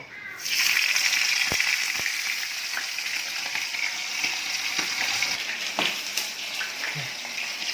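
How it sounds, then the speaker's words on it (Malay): Fish crackles and sizzles loudly in hot oil in a pan after an initial splash, with a steady frying hiss and occasional sharp pops. "sambil-sambil tu saya nak goreng ikan."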